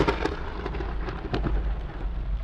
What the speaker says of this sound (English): We just had some thunder.